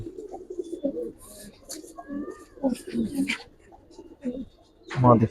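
Giribaz and colouring pigeons at a loft coo in low, throaty bursts, mixed with nearby people talking.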